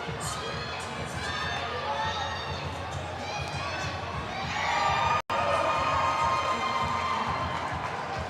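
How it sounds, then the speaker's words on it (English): Crowd cheering and shouting at a CrossFit-style fitness competition, a busy, continuous roar of spectators swelling louder midway, with an announcer talking over it. "Big cheer on the other side for the Masters 35 to 39 women's division"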